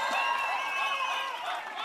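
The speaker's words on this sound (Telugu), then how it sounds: "చప్పట్ల ద్వారా ఘనమైన స్వాగతం చప్పట్ల ద్వారా తెలియజేస్తూ" Crowd at an open-air political public meeting in Kothapeta claps and cheers in welcome, a dense, continuous wash of applause with faint voices mixed in, steady and slightly fading toward the end.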